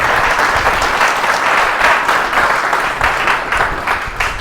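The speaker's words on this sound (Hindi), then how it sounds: "हमें इनका जोरदार स्वागत और ताली के साथ करना चाहिए" An audience breaks into loud, sustained applause at a talk, dense clapping from many hands filling the room without pause, close and full.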